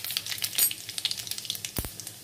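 Cumin seeds crackle and sizzle in hot oil in a kadhai, a steady fizzing with small pops and a brief louder spatter near the start, close and alone with no voices.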